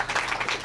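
Brief burst of crowd applause, steady clapping at a public housing-investment announcement, heard for under a second.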